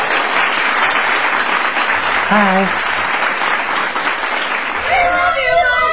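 A studio audience on a celebrity talk show applauds and cheers for a guest, a loud dense wash of clapping throughout, with a brief voice and a shout rising over it.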